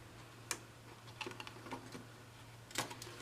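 Designer paper for a Christmas box is trimmed with a few faint, crisp clicks and snips spaced irregularly in a quiet room.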